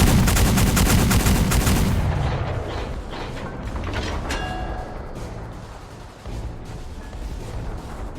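Ship cannon fire in the Roblox naval combat game Dead Ahead: a loud, booming blast fills the first two seconds, then fades into a rumbling tail with faint mechanical clatter, with no voices.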